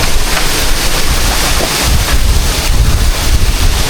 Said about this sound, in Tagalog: tignan nyo kung gaano kalakas ang hangin ngayon mga katuba